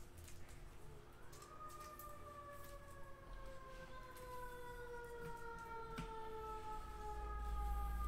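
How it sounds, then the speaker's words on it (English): A police siren wailing outside, faint and distant, its rising and gliding tones drifting across low background rumble with no talk. "Oh, that's not my siren."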